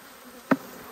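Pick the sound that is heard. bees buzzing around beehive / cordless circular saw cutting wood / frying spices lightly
bees buzzing around beehive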